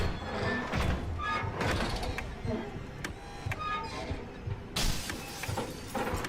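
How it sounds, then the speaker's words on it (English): Glass shatters in a Roblox FNAF fan game set on a ship, a dense crash of breaking and clattering debris amid a loud, busy game soundscape with several sharp impacts. "Oh no, I heard that glass break."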